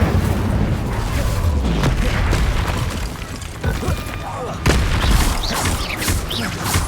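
Incendio fire spell blasting in Hogwarts Legacy amid a chaotic combat stretch, a steady roar of booming bursts and crackling impacts running throughout, loud and dense with overlapping effects and game music.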